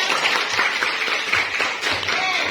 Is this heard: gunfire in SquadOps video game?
no